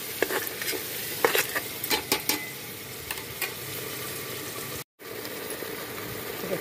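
Mutton being stirred and fried in spice masala in a pan, with a soft continuous sizzle under repeated scraping stirs at an uneven rhythm, close and moderately quiet, and a brief silent gap partway through.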